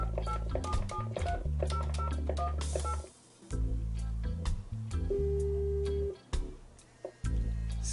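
Phone keypad tones beep in a rapid series while dialing a smartwatch phone, followed by a longer steady tone, with short pauses between groups of beeps.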